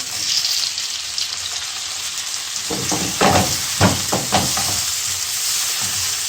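Steady sizzling of tomato frying in a pan with garlic and ginger, with a few clinks and stirring scrapes midway; no talking.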